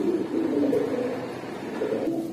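High flyer pigeons at a pigeon farm giving soft, low cooing calls close by, a couple of rolling coos with no talking.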